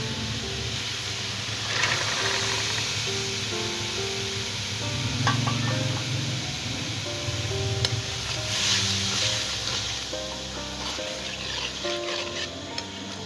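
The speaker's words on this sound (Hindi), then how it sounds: "मैं अब इसमें काले चने शामिल कर रही हूँ।" Black chickpeas sizzle steadily as they fry in masala, with a constant loud hiss and occasional scraping from stirring throughout.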